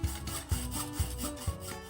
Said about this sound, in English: Using a hacksaw to cut thin tubular metal like this is perfectly fine, but it's slow going and takes a lot of effort.